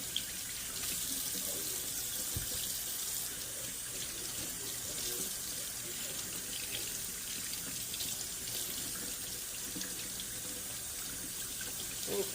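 Steady running tap water pours and splashes into a sink while fresh fish is rinsed under it, a constant close hiss with occasional faint handling knocks and no talking.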